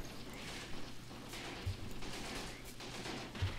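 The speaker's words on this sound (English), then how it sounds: "Definitely opening fire on that position." Distant, muffled bursts of machine-gun fire from a mobile machine-gun position in the Graviteam Tactics war game, crackling in a steady ragged fusillade under a dense rumbling battlefield wash.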